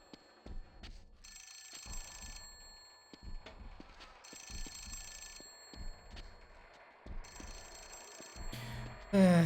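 A phone ringing in The Suffering: Ties That Bind, three repeated bell-like ring bursts spaced evenly apart, fairly clear over thumping game sounds, ending with a louder noise.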